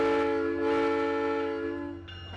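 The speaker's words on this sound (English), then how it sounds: "there's actually a very comfortable train system here in Central Florida" A SunRail commuter train in downtown Kissimmee, Florida sounds its horn, a loud sustained chord-like blast that holds steady and then cuts off, leaving quieter rumble behind.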